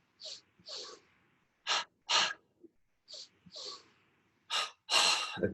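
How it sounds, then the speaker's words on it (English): Double breathing kriya exercise: a person takes two quick breaths in through the nose, then two through the mouth. The rhythmic, close, breathy gasps come in sets of two, with short pauses between, and no talk. "It's the double breathing Kriya."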